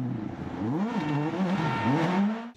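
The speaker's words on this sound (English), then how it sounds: "Listen to the inputs on the throttle and the brake as well." Rally car on an icy special stage, its engine rising and falling in pitch with constant throttle blips and lifts under braking, loud and close, with a brief drop at the end.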